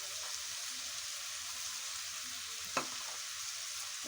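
Rice sautéing with chicken gizzards in a hot pan gives a steady, quiet sizzle and crackle throughout, with a brief stirring scrape partway through and no talking.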